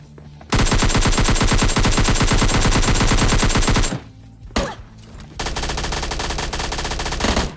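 MP5 gunfire in PUBG Lite, two long rapid-fire bursts of loud, close automatic shots separated by a brief pause with a single sharp report.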